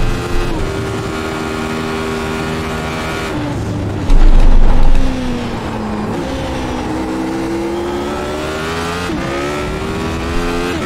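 A Radical SR8 race car laps Phillip Island in the iRacing video game. The engine screams loud and close, rising and falling through gear changes, with a brief deeper roar partway through.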